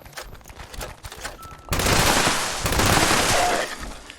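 Rapid automatic fire from a two shot explosive light machine gun in Fallout 76, starting abruptly after quiet ambient sounds and holding as a loud, dense, sustained burst of shots and blasts until the end.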